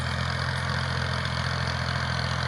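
Tractor engine running in a cotton field, a steady close mechanical drone with an even low throb and no other sounds.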